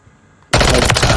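A Welgun submachine gun fires in Call of Duty Warzone: after a quiet moment comes a sudden loud, rapid automatic burst that carries on to the end.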